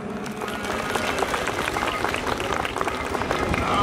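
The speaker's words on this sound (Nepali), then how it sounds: "ती आमाको लागि एकचोटि जोरदार ताली भयो" Applause from an audience at a live concert performance in Salyan, Nepal, a dense sustained clatter of clapping and crowd noise filling the whole stretch at steady loudness.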